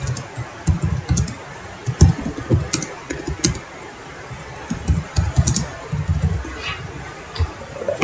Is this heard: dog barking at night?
no